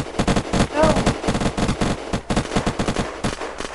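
Rapid bursts of gunfire in the video game Unturned crackle in quick succession, a dense rattling of shots with brief pauses, close and fairly loud.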